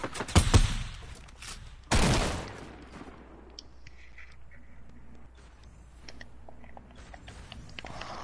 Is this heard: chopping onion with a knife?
no